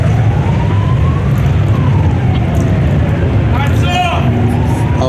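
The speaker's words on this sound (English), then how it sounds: "I'll wait for the sirens to go by." Police sirens wail past along a city street at a rally in Phoenix, Arizona, their rising and falling tones sweeping over heavy traffic rumble and a constant crowd din.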